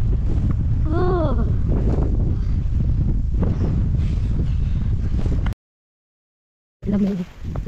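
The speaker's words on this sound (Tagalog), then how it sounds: "Pag sobrang hangin." Strong wind on Buffalo Hill in Hong Kong buffets the microphone in loud, constant gusts, with a voice briefly heard, then a sudden cutout before the roar returns.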